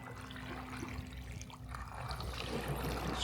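A Wybot robotic pool cleaner scrubs at the waterline of an overfull pool, giving a faint, continuous watery sloshing and churning with a low steady hum underneath.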